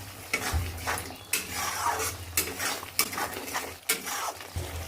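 Spice paste for a prawn and poppy-seed curry stirred in a pan, a spoon scraping in repeated strokes with clinks against the metal, over a low steady sizzle.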